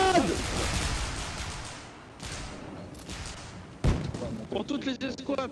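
A grenade goes off with a single sharp, loud blast amid sporadic gunfire, while voices shout in French before and after.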